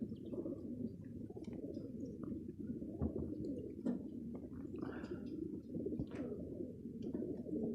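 Racing pigeons at an open race release site in Aydın, Turkey, coo softly and steadily in a low, faint murmur with a few scattered higher chirps and no one talking.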